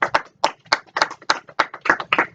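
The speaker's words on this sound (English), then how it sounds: "Get another round of applause for my fellow partner, Belesky." Scattered hand claps in an uneven rhythm, about a dozen distinct claps from a small group, close and fairly crisp, with no speech.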